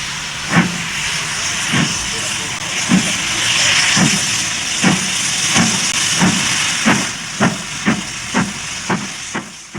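The steam locomotive William Wordsworth pulls away with its train, a loud steady hiss of steam and rhythmic chuffs that gradually quicken as the train gets moving.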